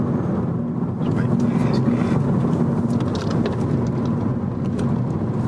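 Inside a 2017 Nissan Micra cruising at 55 mph, a steady, subdued hum of road and engine noise fills the cabin without change.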